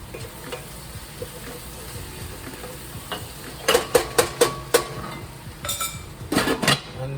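Metal spoon stirring ginger and garlic into a pot of split pea soup, with a run of sharp, close clinks and scrapes against the pot after a quieter start, then a few more knocks near the end.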